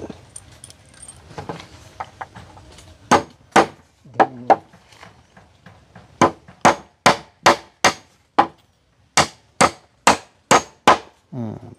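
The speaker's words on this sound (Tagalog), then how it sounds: "Oh, kaya namin ipako rin dito na." Hammer driving nails into wood while building a bahay kubo on a mountaintop, a run of sharp, ringing strikes that start sparse and then fall into a quick, even rhythm, loud and close, with no talk.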